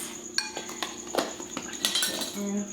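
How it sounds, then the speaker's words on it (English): Utensil stirring dry batter ingredients (flour, baking powder, baking soda, salt) in a bowl, a series of light clinks and taps against the bowl with soft scraping, close and fairly quiet, with brief talk. "Okay, I'm gonna give it a quick mix."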